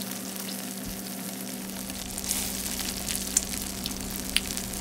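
Chili fries in a pan with a soft, steady sizzle over a low hum, with a few faint crackles and pops near the end and no talking.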